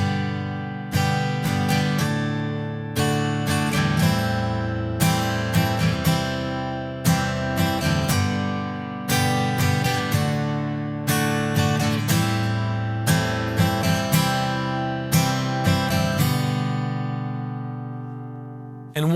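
Acoustic guitar strums a chord progression in a steady rhythmic pattern, repeated down-and-up strokes ringing out loud and close, with no voices.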